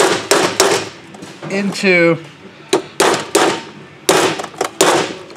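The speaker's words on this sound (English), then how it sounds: "you're gonna drive that Torx bit" Sharp hammer blows drive a Torx bit into a stripped Allen bolt on a YZ motorcycle cylinder, landing as a dozen or so loud, uneven metallic strikes with someone talking briefly between them.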